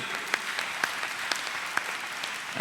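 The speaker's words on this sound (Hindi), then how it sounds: "तालियां कमजोर है आपकी।" Applause from an audience at an outdoor Hindi poetry recital at a fair, a moderate, steady spread of clapping with a few sharper claps standing out.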